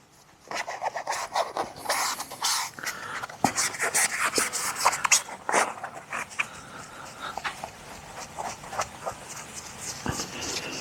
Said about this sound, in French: Je vais asperger mon éponge magique. Alors je frotte pas comme un dingue, hein.